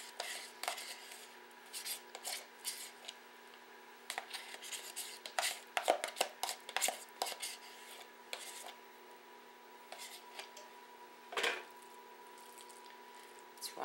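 Cottage cheese being spread over a spaghetti squash lasagna: faint, intermittent soft squishing and scraping strokes of a utensil, scattered in irregular bursts against a quiet kitchen background.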